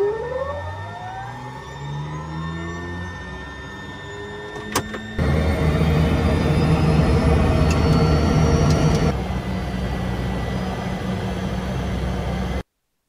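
A light aircraft engine runs steadily on the ground before takeoff on a remote African airstrip, with a tonal whine that gives way to a louder, broadband roar of increased power, continuous and close throughout.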